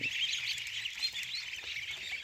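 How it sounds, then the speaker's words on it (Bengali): Jending-chending breed ducklings calling, a continuous chorus of high, close peeping chirps with no talking. "এগুলো হচ্ছে জেন্ডিং চেন্ডিং জাতের হাঁসের বাচ্চা"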